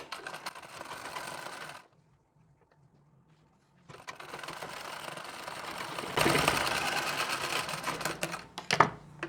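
A sewing machine stitches the lining fabric of a blouse, running loud and close in two bursts of rapid, even needle clatter separated by a short pause, with no talk.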